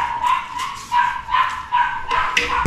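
Several dogs yip and bark in short repeated bursts over a steady background hum, fairly close, with no one speaking.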